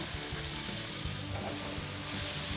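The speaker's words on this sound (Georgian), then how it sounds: "ფილე გადავიტანოთ გახურებულ ტაფაზე" Chicken fillet seasoned with salt and oregano sizzles steadily in a hot frying pan, a faint, continuous hiss with soft crackles throughout.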